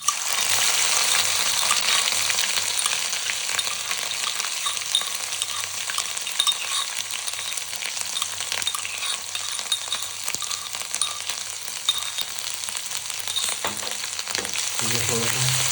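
Ginger-garlic paste sizzles and fries steadily in a hot pan with cumin and asafoetida, with occasional scraping and clinks as it is stirred, continuous and fairly close throughout, with no talking.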